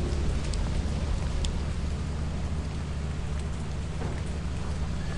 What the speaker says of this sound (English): Rainy. Oh no, my suit's wet.